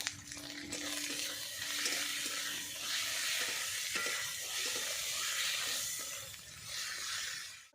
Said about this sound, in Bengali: মশলাটাকে ভাজা ভাজা করে নিয়েছি।